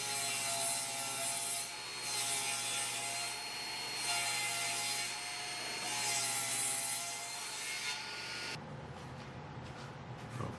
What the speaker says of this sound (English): We're going to rip it down and get our 1 3/4 inch strips.